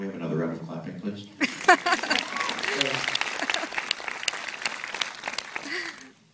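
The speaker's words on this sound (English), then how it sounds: "Can we have another round of clapping, please?" Audience bursts into applause during a film Q&A, sharp clapping starting after a moment of speech and building into a full, steady round that fades at the end.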